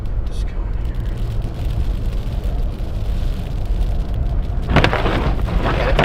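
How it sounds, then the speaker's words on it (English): A mix of sleet pellets and freezing rain patters against a car during a New York winter storm, a steady dense hiss with low rumbling and a brighter burst of pelting near the end; a voice speaks over it. "you guys can hear it's like a mix of sleet pellets and freezing rain"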